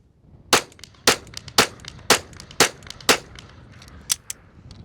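Six sharp handgun shots fired at a steady pace during a Bill Drill at 50 yards, each crack loud and distinct with a short decay, followed after a pause by one more shot.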